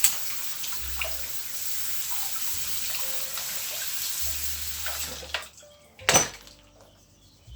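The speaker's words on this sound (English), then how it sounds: "Give it a good flush out with fresh water." Running water rinses and flushes paint sprayer parts at a sink, a steady close-up splash with occasional clinks of parts, then a sharp burst near the end before it falls quiet.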